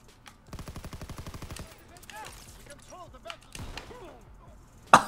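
A rapid automatic burst of about a dozen evenly spaced shots in a WW2 shooter game, aimed at a parachute, followed by someone talking and a sharp single shot at the end.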